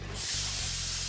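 A can of Crisfix spray starts up suddenly and then gives one continuous, close, even hiss that carries on to the end.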